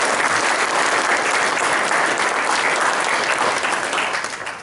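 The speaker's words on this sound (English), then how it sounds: "Let's give him another round of applause." A dense burst of applause from a crowd at an annual meeting, steady clapping throughout that begins to fade toward the end.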